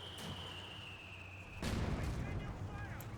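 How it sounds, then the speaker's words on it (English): Company of Heroes 2 mortar fire in the Ardennes Assault campaign: after a steady high whine, one heavy low blast lands and leaves a rumbling tail, all fairly faint. "our mortars are ridiculously accurate. So let's take some shots. See what we can hit. Fire one."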